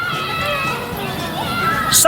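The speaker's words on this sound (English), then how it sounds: "that's the sound of little children enjoying themselves" Little children play outdoors during the summer holidays, a lively wash of overlapping young voices and shouts a short way off, with a brief high squeal at the end.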